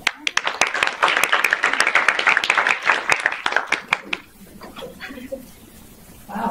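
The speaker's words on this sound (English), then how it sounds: "Wow, you need applause for the moderator." An audience at a global health panel claps loudly for about four seconds with distinct sharp claps, then the applause stops and a few quiet voices and room sounds follow.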